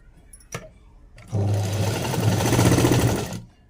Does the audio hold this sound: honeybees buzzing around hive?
no